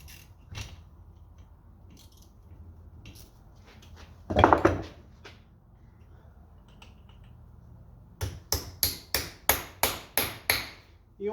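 Hammer tapping bits into a Ford 7610 tractor's differential housing, isolated knocks and creaks early, then a quick run of about eight sharp metallic taps close by.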